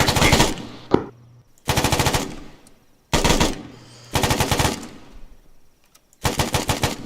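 Automatic weapon in the Arma 3 video game firing five separate short bursts of rapid, loud, close shots, each burst lasting under a second and spaced a few seconds apart, with no talking.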